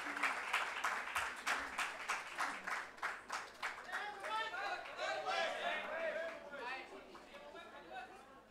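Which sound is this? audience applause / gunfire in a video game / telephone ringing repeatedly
audience applause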